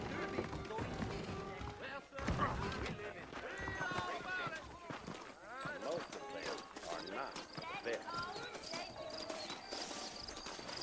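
Horse hooves clip-clop steadily beneath a busy mix of voices and music in the video game Red Dead Redemption, with the trotting rhythm kept up throughout.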